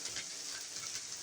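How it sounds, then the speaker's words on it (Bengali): Potato pieces fry with onion and garlic in a pan, giving a soft, steady hiss with faint crackles, close and continuous throughout. "পেঁয়াজ আর রসুনের সাথে আলুটাকে সুন্দর করে বেজে নিব"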